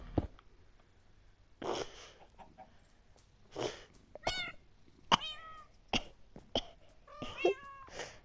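A Minecraft cat meows repeatedly in short, uneven bursts of rising and falling mews, fairly clear against a quiet background with scattered clicks between calls.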